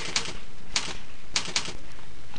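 Keys on a computer keyboard tapped to type a short phrase into a web image editor form, four or five crisp clicks in an uneven rhythm, close and clear against a low steady hiss.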